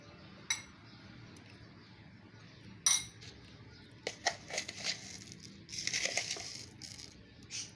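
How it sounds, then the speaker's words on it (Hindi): A spoonful of sugar tipped into falsa sharbat in a home kitchen, heard as scattered metallic clinks of a spoon against a container followed by a gritty, crunching rustle of granules, close and fairly quiet, with no talking. "अब हम इसमें शुगर ऐड करेंगे 1 चम्मच।"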